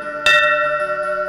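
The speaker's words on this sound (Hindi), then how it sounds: "घंटी बजने लगी" A temple bell rings out loud and close, one strong struck onset with sustained ringing overtones that linger and decay, followed by a second softer strike near the end, with no talking.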